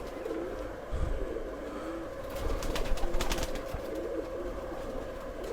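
Langot breed pigeons coo softly and steadily at close range, the low murmuring continuing throughout with slight rustling.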